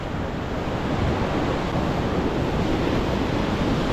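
Sea waves wash steadily against the rocks below a coastal cliff, a loud, continuous roar of surf with wind buffeting the microphone and no voices.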